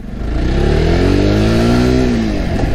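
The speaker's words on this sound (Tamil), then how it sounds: "அண்ட் எக்ஸாஸ்ட் நோ செக் பண்ணிடலாமா?" A JAWA Bobber 42 motorcycle engine revs hard through its exhaust, a loud continuous climbing and falling drone held close for nearly three seconds with no talking.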